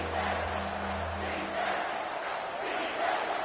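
A home stadium crowd roars in College Football 25 during Michigan at Ohio State, a steady, massed, distant roar with a low rumble early on and no distinct voices.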